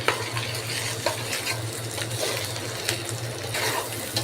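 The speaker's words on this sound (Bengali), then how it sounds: "চালটাকে মোটামুটি ভালোভাবে আমি ভেজে নিব।" Polao rice for biryani frying and being stirred in a pan, a steady close sizzle with a low hum underneath and occasional scraping strokes of the spoon throughout, no talking.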